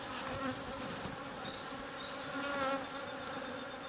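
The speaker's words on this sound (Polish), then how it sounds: "Zobaczcie, ile tych pszczół tu jest." Many bees buzz continuously in the jungle, forming a dense, close, steady hum with insect drones passing near and away.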